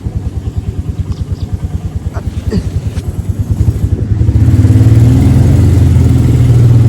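A motorcycle engine idles with a steady rapid thump, close and loud, then revs up into a louder sustained roar toward the end.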